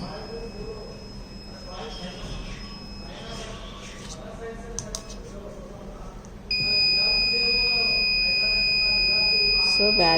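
Buzzer on an Arduino UNO battery charger monitor with fire protection switches on partway through as a loud, steady high-pitched tone that holds to the end, over faint background hum and scattered noise.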